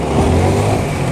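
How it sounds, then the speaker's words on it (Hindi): A motorbike engine running and revving steadily and close by, low mid-pitched rumble with no pause, fuel running low, no voices over it. "On bike start."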